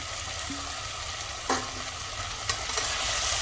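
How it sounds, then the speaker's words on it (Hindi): Fried potatoes and cauliflower go into a pan of cooked masala, a soft steady sizzle of frying under occasional light stirring knocks, with no voices. "अब इसमें ये फ्राई किए हुए आलू और गोभी ऐड कर देंगे"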